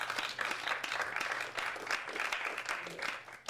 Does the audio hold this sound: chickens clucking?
no